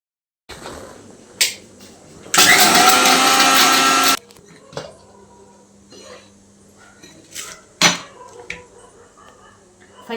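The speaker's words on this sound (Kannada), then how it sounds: "ಫಸ್ಟಿಗೆ ಒಣಮೆಣ್ಸಿನ್ಕಾಯಿನ ಈ ಥರ ಮಿಕ್ಸಿಗೆ ಹಾಕ್ಕೊತೀನಿ ನಾನು" A kitchen mixer grinder whirs loudly for about two seconds while grinding dry red chillies for red chutney, a short burst amid quieter clatter and handling noises before and after.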